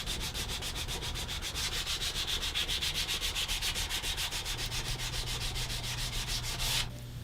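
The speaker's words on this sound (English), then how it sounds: "and a bunch of sanding" Close, brisk sanding on a wooden cigar box guitar neck, rapid rhythmic rubbing strokes that carry on evenly for several seconds and then stop abruptly.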